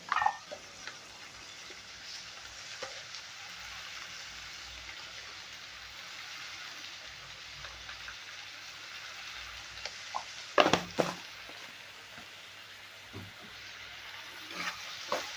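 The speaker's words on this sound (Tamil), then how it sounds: "நல்லா வதக்கி விட்டுக்கோங்க தக்காளியெல்லாம் ஓரளவுக்கு நல்லா குழஞ்சி வரட்டும்" Tomatoes sautéing in oil for brinjal kuzhambu give a soft, steady sizzle close by, faint and even, with a few louder clatters of stirring near the end.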